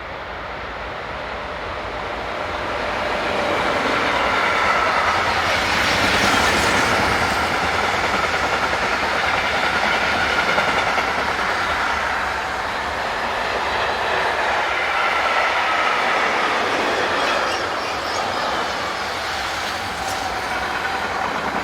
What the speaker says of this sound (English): Another oldie in the shape of 155-151, here heading north with a Gremberg to Cielce mixed freight